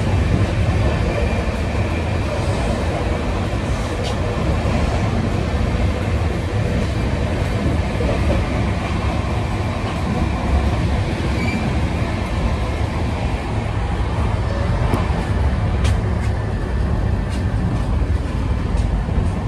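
The Tejas Rajdhani overtakes the Mandwadi–New Delhi superfast on a parallel track at about 130 km/h, giving a loud, continuous, dense roar of wheels and rails with faint squeals and no talking.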